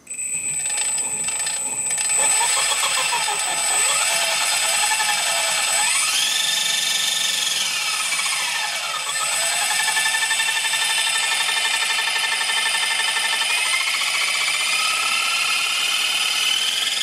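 An electric motor on a DIY-converted Razor scooter runs under throttle, giving a continuous high whine that rises and falls in pitch as the throttle is varied, close and steady throughout without talk.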